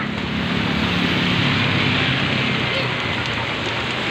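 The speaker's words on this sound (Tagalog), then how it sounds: "Ay nakong ulan to." Steady, heavy rain hissing down on surfaces, a dense continuous wash of sound with no breaks.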